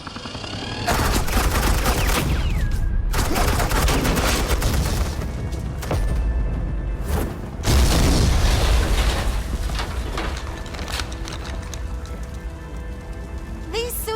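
Dense, sustained bursts of suppressing gunfire from the Batman The Enemy Within video game fill the whole stretch, loud and crackling like heavy rain, with brief gaps and a faint voice underneath.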